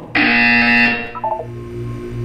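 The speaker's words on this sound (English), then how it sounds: "You will hear a buzzer." Loud electronic buzzer in the video game Portal 2, a single sustained harsh tone lasting about a second, then trailing into a few short beeps over a low background hum.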